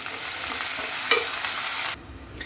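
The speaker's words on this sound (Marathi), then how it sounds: "कांदा आपल्याला छान गोल्डन कलर वरती परतून घ्यायचा आहे" Chopped onion sautéing toward golden for mutton kheema, a bright close sizzle with stirring scrapes, cutting off abruptly near the end to quiet, no talk.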